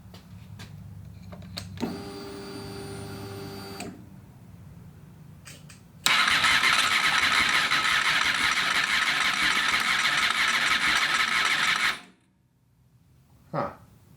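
Motorcycle being brought back to life after months of work, with a short cranking burst followed by a loud six-second roar as the engine catches, then a sudden cut-out into near silence.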